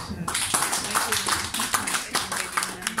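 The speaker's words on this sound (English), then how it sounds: "Let's give a round of applause" A ceremony audience, at an induction ceremony and general meeting, gives a round of applause: dense, steady clapping from many hands with scattered sharper claps, sustained and fairly close.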